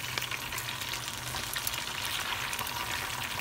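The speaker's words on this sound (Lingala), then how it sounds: "bomoni ndenge ezokalinga na mafuta na biso ya mbila" Fish sizzling and frying in palm oil, a steady dense crackle and hiss heard close up with no talking.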